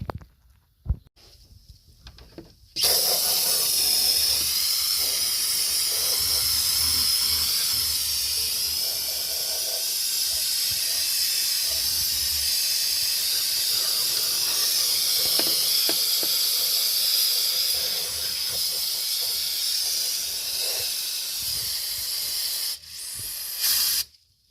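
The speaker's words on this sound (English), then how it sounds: "See how that brake parts cleaner just cuts right into that" Brake parts cleaner sprays steadily onto a Chevrolet Tahoe engine block in one long, loud, continuous hiss of about twenty seconds. Brief handling noises come before and after it, and no one talks.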